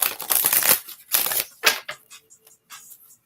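Oracle cards being shuffled by hand, several dense papery riffling bursts up close, tapering into a few softer taps and flicks of the deck, with no talk.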